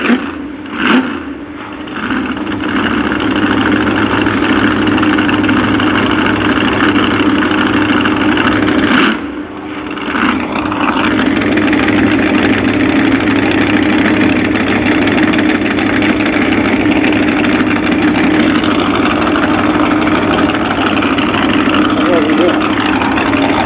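A Chevrolet stock car engine runs steadily at a speedway oval, a loud continuous droning rumble that dips briefly once, with a voice talking over it.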